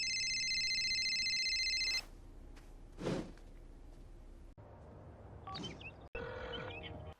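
A telephone rings in The Sims video game, a bright repeating electronic ring for about two seconds at the start, followed by soft clicks and short game sounds.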